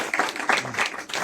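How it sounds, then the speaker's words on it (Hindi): Audience clapping to welcome a speaker at a farewell gathering, a short burst of scattered applause, close and fairly loud. "आप लोग जरा सा इनके स्वागत में ताली बजाएं।"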